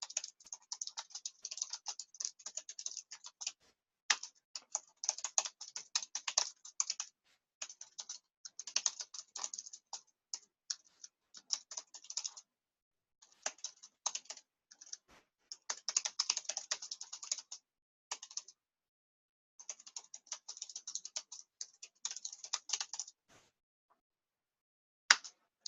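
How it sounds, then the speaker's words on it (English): Keys clatter on a computer keyboard as someone types in a word processor and taps the space bar, quiet close clicking in uneven bursts separated by short pauses, with no talking. "After the period, I press the space bar."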